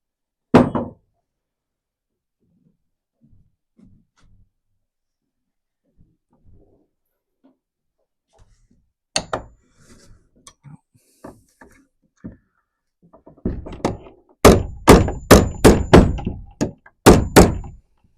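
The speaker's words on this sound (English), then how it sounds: "I'll have to bang that in with a hammer first." A hammer banging a door handle into a wooden shed door: quiet shuffling at first, then a run of sharp, loud, closely spaced knocks and thunks near the end, with a few muffled voice sounds between them.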